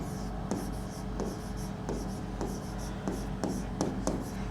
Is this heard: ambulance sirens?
no